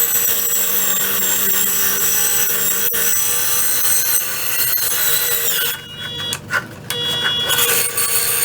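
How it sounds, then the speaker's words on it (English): Bandsaw cutting a single groove into wood for a roll-top bread box, a steady loud whine and rasp running continuously, then breaking up into uneven surges near the end as the cut finishes. "we're going to head to the bandsaw and cut our one groove out"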